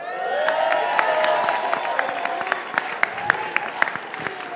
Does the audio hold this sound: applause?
yes